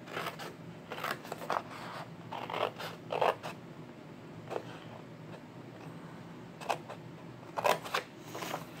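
Scissors cut through paper for a handmade mini album, a quiet close series of short crisp snips and rustles, irregular in rhythm with pauses between cuts.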